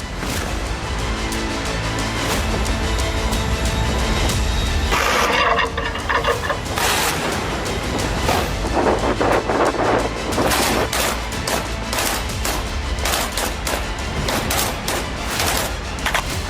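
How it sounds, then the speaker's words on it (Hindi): Artillery firing practice aboard the Russian warship Admiral Kasatonov in the Barents Sea, with dense, continuous loud bursts and rapid repeated blasts over a busy background throughout. "रूस के एक और वारशिप एडमिरल कासातोनोव ने आर्टिलरी फायरिंग का अभ्यास किया था"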